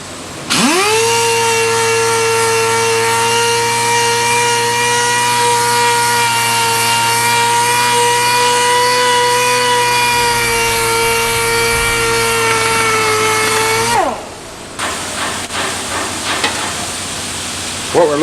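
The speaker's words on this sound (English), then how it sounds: "the worker is now sanding it off to get a smooth contour" A power sander whines with a steady, loud hum for several seconds while smoothing Bondo body filler, then stops abruptly, leaving quieter scraping and handling sounds.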